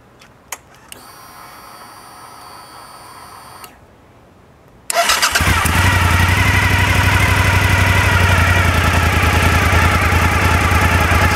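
A Suzuki SV1000 motorcycle fitted with a DIY LiFePO4 battery cranks with a whirring starter, pauses briefly, then fires and settles into a loud, steady, close idle.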